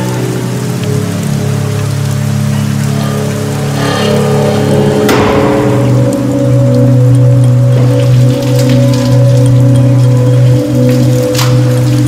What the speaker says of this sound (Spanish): Estaba lloviendo a cántaros